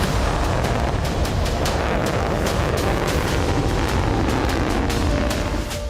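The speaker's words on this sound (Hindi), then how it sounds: "अमेरिका ने अपनी फ्यूचर एटमी मिसाइल का टेस्ट कर लिया है।" A US ICBM nuclear missile test launch, a continuous loud, dense roar with rapid crackling pulses throughout that stays steady for the whole span and fades slightly at the end.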